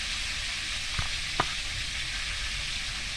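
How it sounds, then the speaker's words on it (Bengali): Chicken and onions frying in a pan, giving a quiet continuous sizzle with two short utensil knocks near the start, close but soft, with no talking. "ভেজে নিচ্ছে, এই তো পেঁয়াজটা ভেজে নেওয়া হয়ে যাচ্ছে।"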